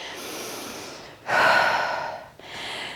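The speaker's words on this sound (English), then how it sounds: "Deep inhale and exhale, let it out." A deep breath drawn in and then let out during a workout cool-down, one loud close inhale followed by a long exhale, with quieter breathing on either side.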